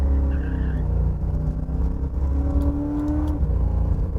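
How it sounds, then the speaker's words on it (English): A 1970 Ford Maverick with a 331ci stroker V8 pulls away, its deep engine rumble rising and falling as it revs and accelerates, loud and close with a brief tire squeal. "let's take that Maverick for a ride"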